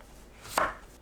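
A single faint knife stroke chops through cucumber on a cutting board while it is being julienned into thin strips, followed by quiet.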